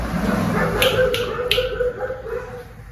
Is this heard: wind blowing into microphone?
no